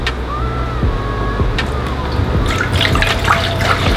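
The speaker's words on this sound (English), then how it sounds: "just run a little bit of water in the bowls, just to like rinse out anything that might be in there" Tap water runs steadily into bowls in a kitchen for rinsing fruit, a close, continuous splashing and trickling stream with some clinks, heard alone without talk.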